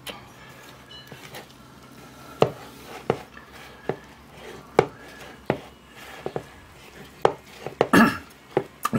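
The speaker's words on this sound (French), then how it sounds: "je vais y ajouter le reste et bien mélanger jusqu'à ce que ça me fasse une belle pâte" Apple fritter batter mixed in a bowl with a utensil, producing irregular knocks and scraping taps against the bowl over a quiet background, close and moderately loud.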